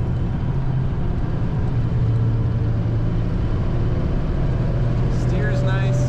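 A 1940 Cadillac Series 60 Special Fleetwood cruising in top gear, its engine a steady low rumble with road and wind noise throughout, loud and close from inside the cabin, with a voice talking over it.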